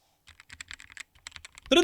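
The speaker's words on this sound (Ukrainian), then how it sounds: "Ось так звучить ця клавіатура." Fast, crisp clacking of a compact wireless mechanical keyboard being typed on up close, in two quick bursts with a brief pause between them.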